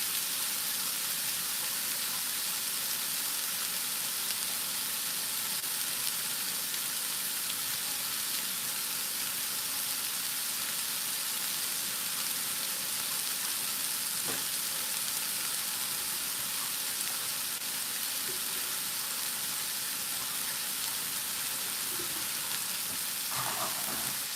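Oil sizzles in a skillet on a home stove, a steady, quiet crackling hiss that runs unbroken with no talk over it.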